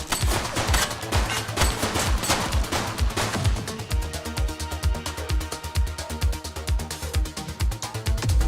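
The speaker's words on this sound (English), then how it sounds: "She's shooting!" Sustained automatic gunfire in the police video game The Precinct, dense rapid bursts crackling loudly and continuously with little let-up throughout.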